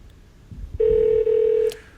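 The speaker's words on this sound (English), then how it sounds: "It's like a speakerphone. You can hear it ringing." A telephone rings through a Google Home smart speaker used as a speakerphone, giving a single loud, steady electronic ring tone about a second long that cuts off sharply.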